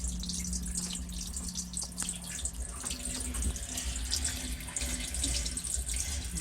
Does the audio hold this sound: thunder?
no